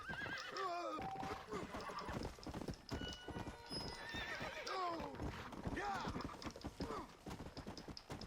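A horse whinnies several times in the video game Red Dead Redemption: Undead Nightmare, with rising and falling neighs over steady clip-clopping hooves and a busy game soundtrack.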